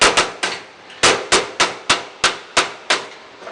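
A hammer strikes a car body panel backed by a dolly during a 1967 Mustang restoration, about ten sharp, loud metallic blows in an uneven rhythm, each ringing briefly before the next, close and with no talking.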